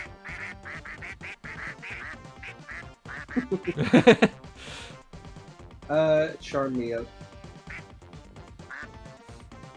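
Repeated cartoonish duck quacks used as sound effects in the Monster Con video game, bursting out loudly in quick clusters over upbeat background music, with a voice speaking briefly.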